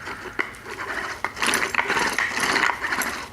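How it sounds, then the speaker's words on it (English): Gears rattle and ratchet inside a Bondo Hog sander with planetary gearing, a gritty mechanical churning with irregular clicks, close up and moderately loud throughout. "But you can hear the gears in there."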